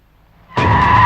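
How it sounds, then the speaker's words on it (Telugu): Several cars screech to a sudden stop after a near-silent moment, a loud, sustained tire squeal that holds steady to the end, with no voices. "3 కార్లు వచ్చాయండి."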